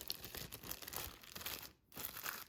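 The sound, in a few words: plastic bag being handled with salt dough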